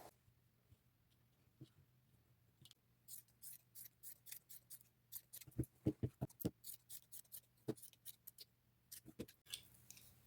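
Scissors snip through fabric while a jean skirt and white blouse are cut down, producing a series of crisp, quiet, close cuts that speed up into a quick rhythmic run before trailing off.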